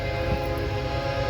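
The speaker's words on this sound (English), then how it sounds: "Oh, I hear a train." A train rumbles past nearby in a steady, loud, continuous drone with a sustained tonal hum, heard alone without talk.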